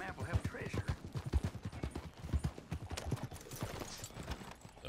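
A horse in the video game Red Dead Redemption 2 trots with steady, rhythmic clip-clopping hoofbeats, close and distinct, while a person talks over them.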